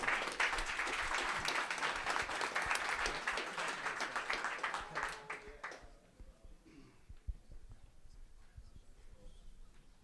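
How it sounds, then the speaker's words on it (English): An audience at the Nebular Summit Paris conference applauds a speaker, with dense, steady clapping that fades out after about six seconds, leaving quiet room noise and a few scattered claps. "One round of applause for Fede,"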